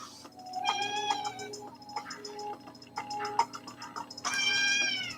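A cat meows repeatedly nearby, several drawn-out calls with short gaps between them, the last one long and loud, over a faint steady ticking and no talk.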